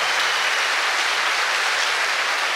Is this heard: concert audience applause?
yes